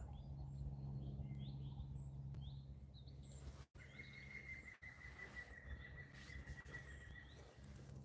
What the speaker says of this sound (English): Probably you can hear some birds in the background.